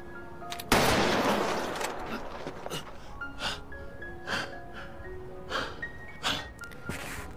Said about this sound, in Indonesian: Detektif Hwang yang terpojok akhirnya melesatkan peluru ke dada frontman.